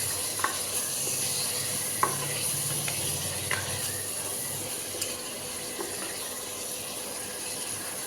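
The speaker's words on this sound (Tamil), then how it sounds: "நல்லா வதக்கி சேர்த்து பண்ணிக்கலாம்." Brinjal frying and being stirred in a pan with a little Dalda for brinjal biryani, a steady soft sizzle broken by occasional scraping clicks of the spoon, close and without voices.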